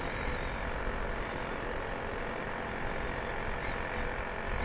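A Lexmoto Aspire 50cc motorcycle engine, eased off the throttle to cruise through town, gives a steady droning hum mixed with road and wind rush that stays even throughout.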